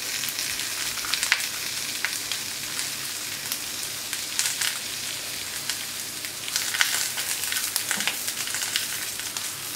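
Small peppers and Chinese eggplants sizzle in a pan for Japanese-style grilled beef, giving soft, rain-like crackling with scattered sharper pops, close and fairly quiet, no speech.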